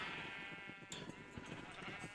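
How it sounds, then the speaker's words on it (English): Sheep in Minecraft let out a series of wavering bleats, fairly faint and overlapping in quick succession over a soft background, with no talking. "Over here I've got a sheep pen, and this is why I have sheep all over the base."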